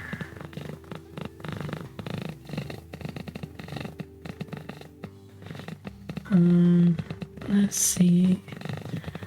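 A house cat purrs in a low, continuous rumble, with a person speaking quietly over it.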